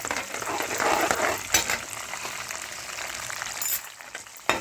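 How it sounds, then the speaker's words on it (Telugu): Dried red chillies frying in oil for mango pulihora, a steady close sizzle with light stirring scrapes and an occasional faint clink of utensils, with no talking. "ఇవి బాగా వేగాలి. ఇదే టైంలో మనం ఎండుమిరపకాయలు వేసేసుకోవచ్చండి."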